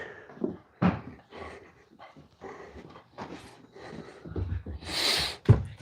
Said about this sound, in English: Hey, puppies. Hey, puppies.